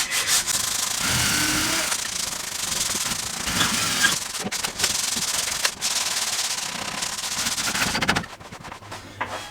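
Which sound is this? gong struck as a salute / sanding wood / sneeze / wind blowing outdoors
sanding wood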